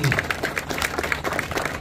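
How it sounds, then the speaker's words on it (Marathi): An audience at a police station celebration of an officer's promotion to ACP claps in a steady, rhythmic patter, with voices mixed in underneath. "विनंती करेन जोरदार टाळ्या वाजवा"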